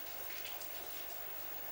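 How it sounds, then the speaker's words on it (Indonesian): Light rain patters steadily and softly on a surface, a continuous even hiss of drops with no voices. "Terdengar suara rintik hujan mengalir."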